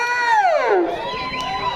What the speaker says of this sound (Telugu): కేకలు విజిల్లు.